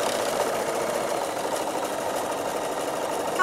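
A Bernina sewing machine stitching a postcard, a continuous close mechanical hum with rapid even needle chatter, steady and uninterrupted throughout.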